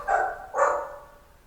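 Dogs barking in the background of a city council committee meeting, two separate barks heard alone at moderate distance, the second slightly stronger and trailing off.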